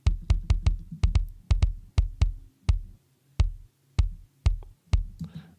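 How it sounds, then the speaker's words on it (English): A kick drum sample named "very fat kick" thumps in a looping pattern of deep, punchy hits, sometimes in quick pairs, with short gaps between groups and no other sound. "There's this kick called a very fat kick."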